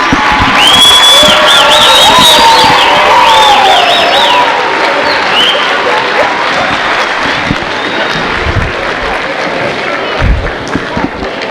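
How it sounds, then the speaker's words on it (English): Loud applause and cheering from the audience at a school band concert honoring fifth graders, with shrill whoops and children's shouts over the dense clapping, which gradually thins as voices take over. "Let's give one more round of applause for the 5th graders and Mrs. Kleber"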